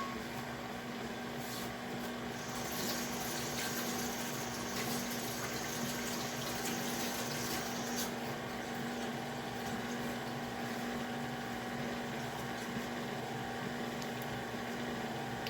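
Electric stand mixer with a paddle beating yellow cake batter, a steady low motor hum with constant whirring, faint and continuous throughout, no talking.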